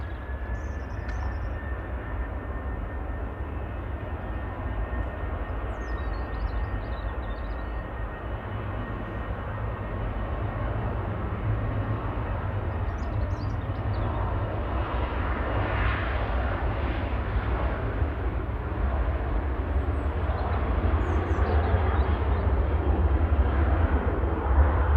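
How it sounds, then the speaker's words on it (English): An Etihad airliner taxis out after pushback at Manchester Airport, its engines giving a continuous low rumble with a faint whine that slowly builds in loudness over the whole stretch, heard from a distance. "So Etihad is pinging, so it should be taxiing out."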